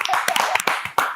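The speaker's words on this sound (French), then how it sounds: "Émilie, on peut l'applaudir." A comedy radio audience breaks into brief applause, a dense burst of close hand clapping lasting about a second.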